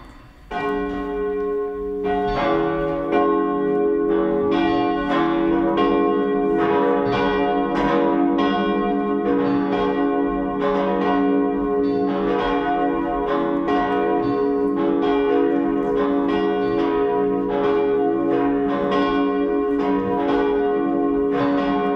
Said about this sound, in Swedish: Låt oss nu lyssna till klockringningen.